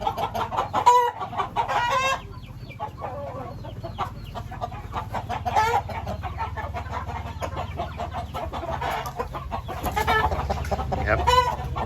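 Fighting-breed chickens and a rooster cluck and crow close by in a farm yard, with repeated bursts of calls over a constant low background hum.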